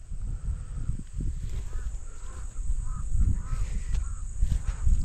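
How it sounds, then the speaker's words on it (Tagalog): Crows caw repeatedly near a flowering mango tree, a series of harsh calls at moderate distance over a steady background hiss. "Dami pa rin uwak yan"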